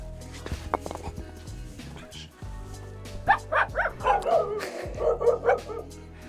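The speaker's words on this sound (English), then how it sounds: "Oh, these dogs." Several dogs bark and yip in quick, loud bursts nearby at a monks' residence in Bhutan, with people talking over and between the barks.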